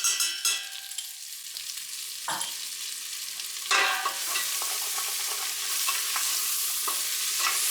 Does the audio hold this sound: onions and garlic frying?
yes